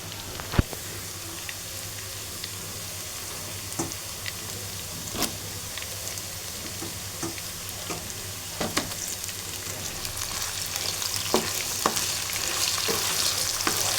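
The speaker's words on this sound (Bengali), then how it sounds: "চিকেনগুলো আর পেঁয়াজগুলো একটু খানিকক্ষণ ভেজে নেব।" Chicken pieces and onions fry in a pan for a biryani, with a steady close sizzle throughout, scattered clicks and stirring scrapes, and the hiss growing slightly louder toward the end; no one speaks.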